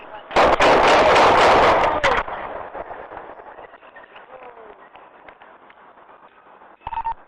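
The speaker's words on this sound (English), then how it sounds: "shots fired" A rapid burst of loud police gunshots blasts out close by in a street confrontation with a knife-wielding subject, then fades into muffled radio-like noise with a brief beep near the end.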